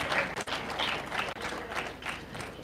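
A crowd of attendees at a waste power plant launch in Uganda claps together, a dense continuous patter of hands with a couple of brief dips, fairly close and full.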